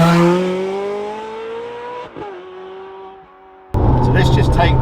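A Ferrari 430 Scuderia engine revs hard and close, its pitch sliding down as it eases off, then dropping low before surging back loudly into another burst of acceleration.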